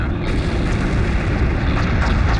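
A large explosion rumbles as a target is destroyed in the space strategy game Homeworld Remastered, a loud, dense roar that fills the whole moment without letup.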